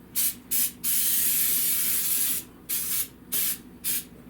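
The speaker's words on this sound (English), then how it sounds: "We have baking cooking spray." Cooking spray hisses from a can onto a baking pan in close, sharp bursts: two quick puffs, one long steady spray, then three more short bursts.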